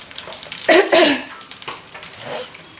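Shahjeera and fennel seeds fry in hot oil, stirred with a clinking spoon in short scraping bursts, a moderate sizzle under brief speech.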